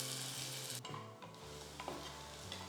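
Sliced medium onion sautéing in a pan toward light brown, a steady soft sizzle with intermittent scraping stirs and a brief clink of the utensil against the pan.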